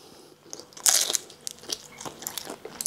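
Crisp, crackly crunches from biting into a fried pork spring roll filled with carrots, bean sprouts and cabbage, close up and alone, a loud first bite followed by several smaller crunching chews.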